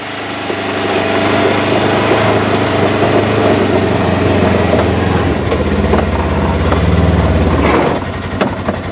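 Polaris RZR 900S or 1000S side-by-side on upgraded wheels and taller tires driving on gravel, a steady loud engine hum with crunching, rattling texture that changes pitch midway and then drops off near the end.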